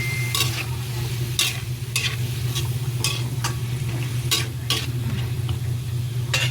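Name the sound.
soy sauce added to sizzling adobo in a pan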